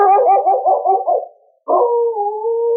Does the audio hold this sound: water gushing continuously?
no